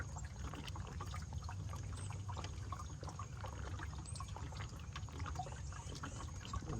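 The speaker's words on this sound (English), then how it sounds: "It's slowly bubbling out." Coolant slowly bubbles and trickles out of the coolant tank of an overheating 2015 Chevy Cruze, a faint continuous gurgle with small irregular pops over a low engine hum.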